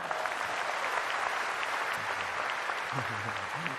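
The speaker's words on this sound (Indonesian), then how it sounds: "Weh, tepuk tangannya mana?" Audience at an Istora arena event applauds, a dense steady wash of many hands clapping for the whole stretch, with a few faint voices calling out beneath it.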